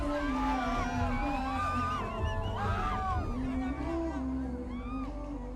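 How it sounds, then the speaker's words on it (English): Crowd at a cricket stadium on Christmas Eve, a broad sustained roar with whoops and shouts rising and falling, steady and loud throughout, with voices cutting through the din. "The crowd just rejoicing the atmosphere."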